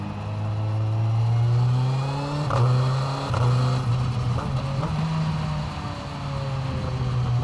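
Kawasaki Z900 with a Stage 2 ECU running on the German Autobahn, its engine droning steadily and close with slight pitch shifts as the rider changes speed, under constant road and wind rush.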